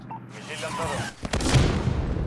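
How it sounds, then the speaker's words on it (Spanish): A missile launches in the video game Call of Duty: Modern Warfare II, heard as a loud whooshing roar and blast that follows a soldier's radio voice amid battle noise. "Misil lanzado."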